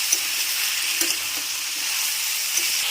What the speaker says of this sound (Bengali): তিন মিনিট মতন কষাতে হবে বন্ধুরা।